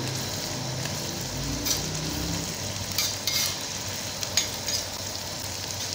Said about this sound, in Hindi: मैंने एक बारीक चॉप किया हुआ मीडियम साइज का प्याज डाला है। प्याज को फ्राई करेंगे।